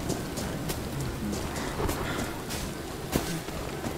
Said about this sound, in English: I always enjoyed the Blood Rain.